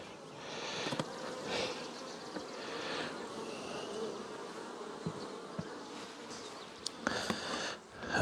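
Honey bees hum and buzz around beehives in a steady, moderately close drone, with a few brief knocks and clicks scattered through it.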